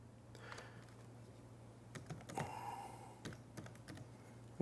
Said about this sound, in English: I'm going to type ipconfig one more time